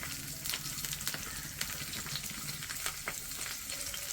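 Sliced garlic and small pieces of ginger frying in hot oil, a steady close crackling sizzle with scattered sharper pops running throughout, no voices.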